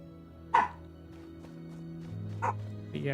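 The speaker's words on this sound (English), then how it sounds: "Sorry for the dog barking" A dog barks nearby in a few sharp, separate yips and woofs over a low background hum, with quieter whimpering sounds between them.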